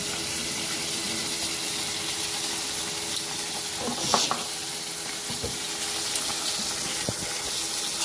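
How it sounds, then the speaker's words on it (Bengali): Fish fries in a pan with a dense, steady sizzle that fills the whole stretch, broken by a few soft clinks and stirring touches. "মাছটা হয়তো একদিক দিয়ে ভাজা হয়ে গেছে, এখন একটু উল্টে উল্টে দিব"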